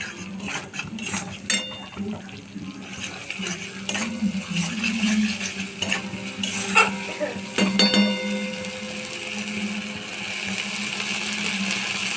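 Spice paste seasoned with asafoetida fries and is stirred in a pan for chana dal, with steady sizzling and intermittent spoon-on-metal clatter close by.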